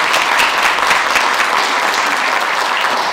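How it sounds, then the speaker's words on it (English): A dense, steady round of clapping from an audience at a commemoration of Black Patriots of the Battle of Guilford Courthouse, loud and sustained for a few seconds with no pauses. "so let's clap for her too."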